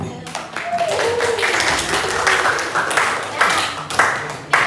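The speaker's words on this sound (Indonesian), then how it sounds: "Tepuk tangan untuk kalian." Classroom students clapping during a mathematics lesson on exponents, a ragged patter of hand claps with some chatter and voices mixed in throughout, moderately loud and fairly close.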